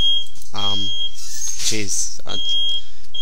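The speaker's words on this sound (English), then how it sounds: "Oh, and there goes my fire alarm." Household fire alarm sounding a loud, steady high-pitched beep that runs almost continuously through the clip, with a short break. A voice speaks and exclaims close over it.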